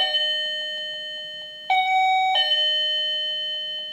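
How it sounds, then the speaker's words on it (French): Electric doorbell chime rings clearly, a steady electronic tone that jumps to brighter, louder notes twice in quick succession before fading, alone with no talking. "c'est le carillon que j'ai installé"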